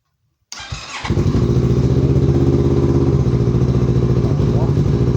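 A vehicle engine cranks and fires after a moment of silence, once the ignition power is switched on, then settles into a loud, steady, throbbing idle close by.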